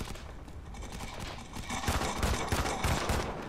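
Shotgun blasts and gunfire in the multiplayer mode of the video game Modern Combat 5, dense and loud, with repeated heavy booms building in the second half amid continuous game noise.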